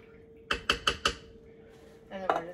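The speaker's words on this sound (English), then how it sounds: "Give it a good stir." A spoon stirring taco soup with drained beans in an Instant Pot, giving four quick, sharp knocks against the metal pot close by, then a softer clatter a moment later.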